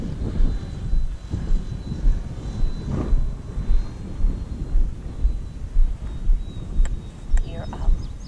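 A Freewing F-22 Raptor RC model jet takes off outdoors with a steady whooshing roar that swells and fades in a pulsing rhythm, while a person talks over it.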